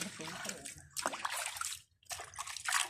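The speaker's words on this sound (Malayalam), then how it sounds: "വെള്ളം കൈ കഴുകുക" Cold running water, murky in color, splashing over hands being washed outdoors, loud and close, with one brief pause.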